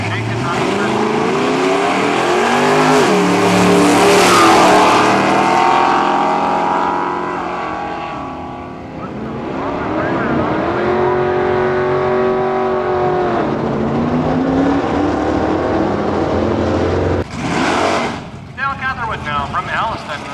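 A 1974 Chevelle Laguna drag car with a 540-cubic-inch big block Chevy roars loud and close at a nostalgia drag strip, its revving engine rising and falling over a steady crowd and PA talk, followed by a sharp burst near the end.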